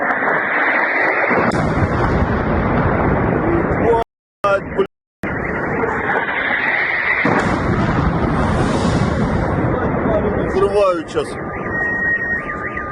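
Storm Shadow missile strikes land in a war zone with heavy, sustained rumbling blasts and roaring noise that fill the scene, broken by brief dropouts, while someone talks excitedly over it.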